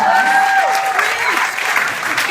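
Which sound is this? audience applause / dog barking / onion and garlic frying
audience applause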